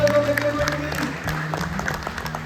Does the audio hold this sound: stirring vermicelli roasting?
no